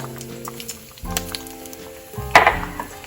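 Mustard seeds and urad dal crackle and sizzle in hot oil, with bright popping bursts, most noticeably near the end, over a background tone and no talking.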